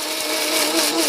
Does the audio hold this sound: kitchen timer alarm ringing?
no